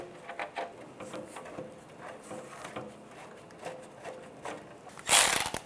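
A ratchet tightens the valve cover bolts on a 1996-2002 Toyota 4Runner with quick, close clicking in short bursts, ending in a brief, louder metallic clatter.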